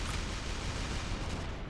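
A tank fires its shell in the artillery video game Shellshock Live, giving a dense, sustained explosive blast with a roaring, noisy wash that carries through the whole moment.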